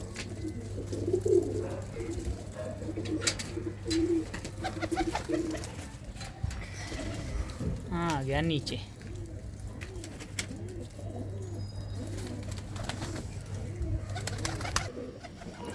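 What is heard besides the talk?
pigeons cooing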